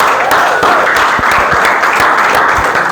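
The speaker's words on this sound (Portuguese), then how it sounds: "uma salva de palmas" A classroom group applauds together, a loud steady wash of clapping that holds at the same level from start to finish with no voices over it.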